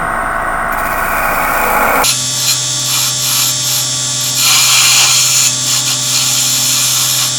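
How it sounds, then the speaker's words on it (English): A wood lathe turning a baby rattle while a bowl gouge rounds the profile: a loud, steady, close whine with a constant hum and a scraping cutting noise that begins about two seconds in and continues throughout. "I'm actually going to use my bowl gouge just to start to get the profile rounded down here."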